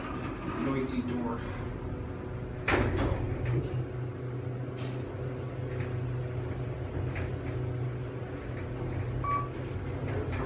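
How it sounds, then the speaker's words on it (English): A noisy door on a Kone traction elevator rolls open and shut at Brock University's International Center in St. Catharines, Ontario, rattling and clunking under a steady hum, with a sharp bang partway through and someone talking over it. "Noisy door."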